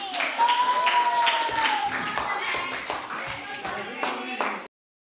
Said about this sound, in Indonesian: tepuk tangan untuk pemenang hari ini.